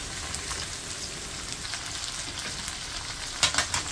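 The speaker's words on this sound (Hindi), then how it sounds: "अब इसको 4 मिनट इसको तेज फ्लेम पे फ्राई करेंगे प्याज को" Two onions frying in half a cup of oil in a kadhai over high flame, a steady dense sizzle throughout with a few louder crackling bursts near the end, no voices.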